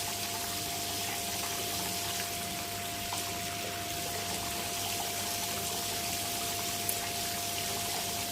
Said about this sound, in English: A bit of water coming off here.